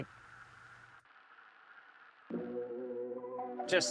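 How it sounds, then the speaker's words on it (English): A tape machine plugin gives a steady tonal motor hum with faint hiss, which jumps at the midpoint into a louder, richer droning layer and ends in a brief bright noisy burst. "And then the motor noise."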